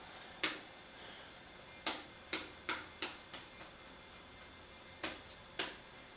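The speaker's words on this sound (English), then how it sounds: "You have to really bash that enter key hard to get it to do anything." The hard-to-press enter key on a Dell Inspiron 6000 laptop keyboard is bashed repeatedly, giving about nine sharp, loud plastic clicks in an irregular rhythm, some close together, some spaced apart, over a quiet background.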